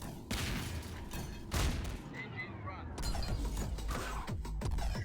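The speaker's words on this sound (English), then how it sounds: "Now that's a rocket launcher." Rocket launcher fire and blasts in the side-scrolling shooter Plazma Burst 2: repeated loud, close booms and crashing impacts in quick succession, with someone talking intermittently.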